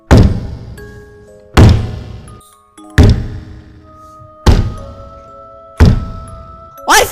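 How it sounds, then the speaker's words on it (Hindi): Animated sound effect of heavy footsteps on a house roof: five loud, evenly spaced thuds about a second and a half apart, each with a short ringing tail. "उस बच्चे ने सुना उसके घर की छत से चलने की आवाज आने लगी"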